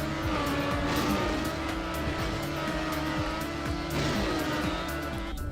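In a racing video game, a car engine roars steadily throughout while tires squeal and skid in repeated bursts, with no talking over the driving sounds.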